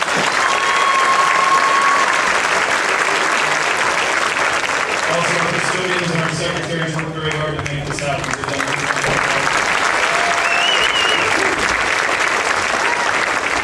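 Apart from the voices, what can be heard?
graduation audience applauding teachers and staff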